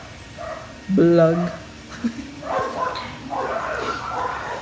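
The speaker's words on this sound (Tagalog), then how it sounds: "Dahil marami na pong aso." Outdoor dog barking with several short yips and howl-like calls about a second in, then more distant canine noise under a man's speech in Filipino and English.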